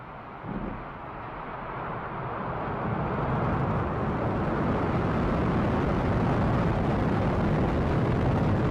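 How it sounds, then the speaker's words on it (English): SpaceX Falcon rocket carrying the Crew Dragon DM-1 capsule igniting and lifting off, a distant broadband roar that builds and thickens over several seconds into a sustained rumbling thunder, with no voices over it. "Ignition, liftoff."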